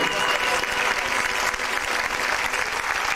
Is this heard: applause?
yes